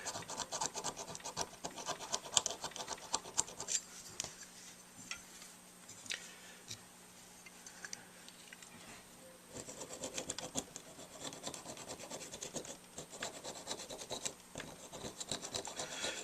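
A metal file with a half-curved profile rasps against a TS Dukoff D9 saxophone mouthpiece in repeated close, scratchy strokes, with a short pause partway through and no talking.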